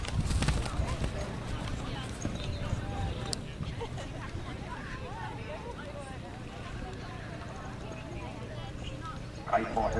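Racehorses gallop at a steeplechase meeting, a low, rumbling drumming of hooves on turf that carries steadily under crowd noise and commentary.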